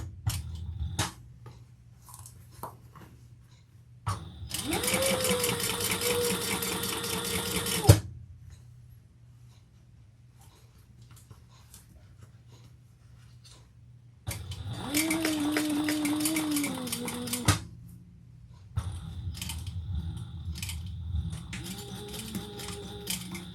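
A sewing machine top stitches a bucket bag in three close, steady bursts of rapid needle chatter, separated by quiet pauses.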